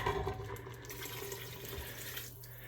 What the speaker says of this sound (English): I'm going to put 2 cups of water at first to see what it looks like.